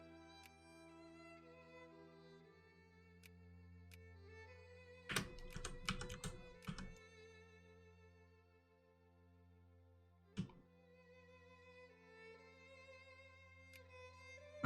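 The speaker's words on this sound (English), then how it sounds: "You may hear me frantically clicking on the investment button." A rapid burst of computer mouse clicks clusters in the middle, with a few isolated clicks before and after over a soft steady hum.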